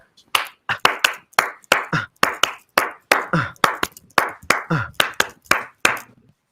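Sharp hand claps repeat a Cuban syncopated habanera pattern, the same short uneven grouping played several times, close and crisp with silence between hits.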